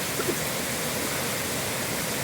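A river in flood rushes in a continuous broadband roar of churning water, loud, close and unbroken, carrying debris downstream, with no voices heard.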